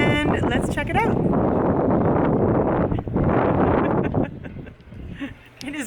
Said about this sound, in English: It is windy and cold here today.